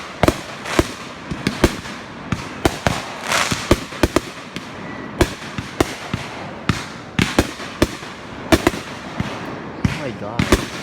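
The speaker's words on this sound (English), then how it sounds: "they're gonna put more fireworks in here" Fireworks bursting at a 2020 celebration, a rapid series of sharp cracks and bangs at irregular intervals over a crackling, hissing background, fairly close and loud throughout.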